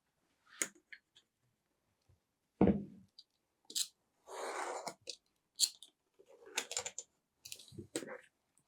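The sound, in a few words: cutting leather scrap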